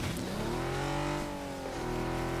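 A car in the video game PUBG drives on snow, its engine a steady tonal drone with pitch slowly rising and dipping as it revs, close and loud, with no talk.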